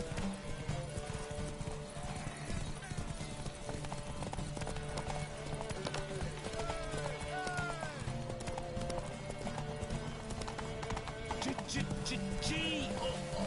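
Rhythmic hoof clip-clop from a galloping horse in the video game Witcher 3, steady and close throughout, with a horse whinny, game music and speech-like voices mixed in.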